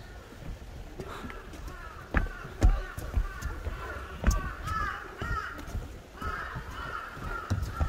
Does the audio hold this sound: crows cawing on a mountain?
yes